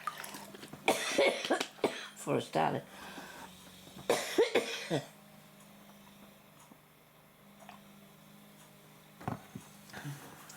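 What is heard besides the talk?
coughing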